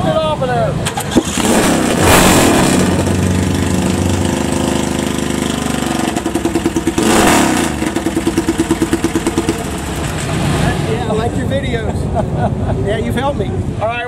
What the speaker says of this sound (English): Fire that thing up again for Taryl